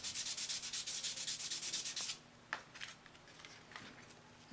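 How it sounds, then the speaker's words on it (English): Wet sandpaper rubbing polymer clay in fast, even back-and-forth strokes for about two seconds, followed by quieter scattered scrapes and handling noise. "you can kind of keep sanding that until it's nice and smooth"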